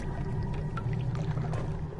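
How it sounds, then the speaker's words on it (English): Water splashing and pouring somewhere in a dark cellar in the video game Amnesia: The Dark Descent, a steady, moderately close watery wash with a few brief splashes and no voices. "something's splashing down here"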